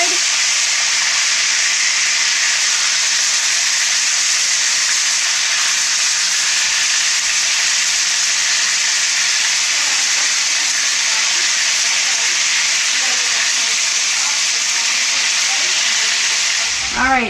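Pork chops fry in a pan with a loud, continuous sizzling hiss that holds steady and close throughout, with a brief clatter right at the end.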